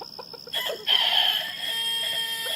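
2018 black Wyandotte cockerels, a few short clucks at first, then a loud drawn-out crow nearby, followed by more crowing and clucking that runs to the end.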